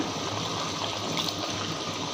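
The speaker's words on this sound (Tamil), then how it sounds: "தேவையான அளவுக்கு நம்ம தண்ணி ஊற்றியாச்சு" Water pours steadily into a wet grinder holding soaked rice, making a continuous close rushing trickle with no talk.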